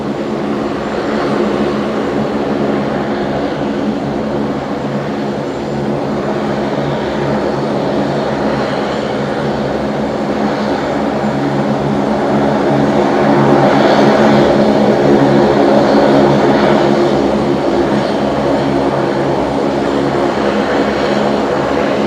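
A Rex Saab turboprop at Brisbane Airport gives a loud, steady propeller drone close by, swelling slightly toward the end over a broad rumble.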